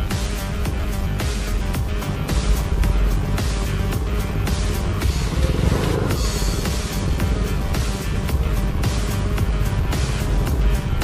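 A KTM RC390 motorcycle engine drones loudly and steadily while riding, a continuous mechanical roar with wind noise and no clear revving peaks.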